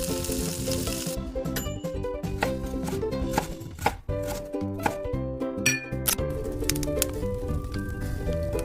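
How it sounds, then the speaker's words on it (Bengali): Sliced ridge gourd sizzles and fries in oil in a clay pan over medium heat, a loud, steady crackling hiss with scattered clinks and stirring scrapes. "কড়াইতে আমি মিডিয়াম আঁচ করে অল্প করে তেল দিয়ে ঝিঙেগুলো আমি ভেজে নেব।"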